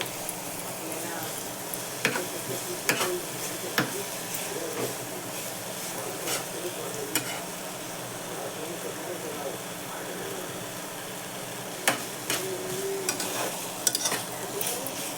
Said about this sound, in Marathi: आता मी ही सुकट धुतलेली ह्यात घालून घेते. चांगली परतू द्यायची.